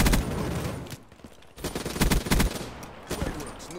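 Gunfire from the video game Call of Duty: Black Ops 3, loud bursts of shots in irregular clusters with short gaps, close and dense.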